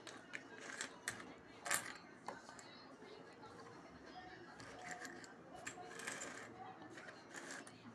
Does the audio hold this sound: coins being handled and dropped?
yes